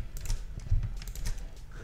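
Rapid keystrokes on a computer keyboard as a rotate-and-copy shortcut is entered in ArchiCAD, a quick cluster of close, light clicks with a slightly heavier tap near the middle.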